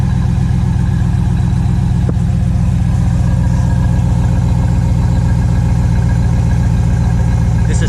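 A cold 2016 Ram 1500 engine holds a steady fast idle just over 1,000 RPM with the exhaust cutout open, a loud, even low-pitched rumble throughout with no voices.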